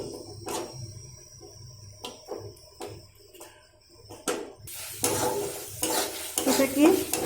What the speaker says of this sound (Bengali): আমি এটা 15 সেকেন্ডের মতো এটা কষিয়ে নিচ্ছি।